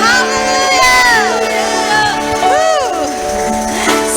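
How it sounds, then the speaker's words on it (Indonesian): A church congregation at a Sunday worship service shouts hallelujah together: many overlapping voices raise loud, rising cries and whoops that fill the room. "Sorakan haleluya."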